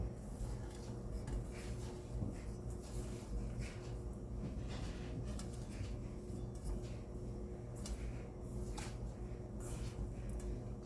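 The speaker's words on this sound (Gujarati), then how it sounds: "બધું મિક્સ કરી દઈશું." Paneer chilla mixture with ginger and spices being mixed in a bowl, a steady clatter and scrape of utensil against dish running continuously throughout, fairly close with light background hum.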